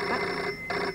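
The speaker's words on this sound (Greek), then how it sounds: "Εμπουγκαλιάσανε τα τηλέφωνα να χτυπούνε, ακούτε." Several telephones ring at once at a TV show's call-in line in an overlapping, jangling burst, dense and continuous, with a brief dip partway through.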